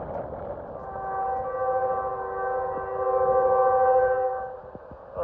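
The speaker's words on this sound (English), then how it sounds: "Oh, that's got a funky sounding horn." A Union Pacific intermodal freight train's horn sounds a long, steady multi-tone chord with an unusual tone, held for about four seconds at moderate distance, with gusty wind rumbling on the microphone throughout.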